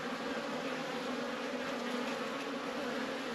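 Honeybees buzz densely at an open hive, a steady, close, unbroken drone from many insects with no speech over it.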